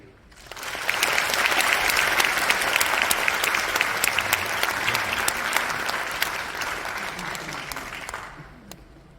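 Applause at a university graduation ceremony, rising quickly from quiet into sustained dense clapping by a large audience, with sharp individual claps standing out, then fading and cutting off near the end.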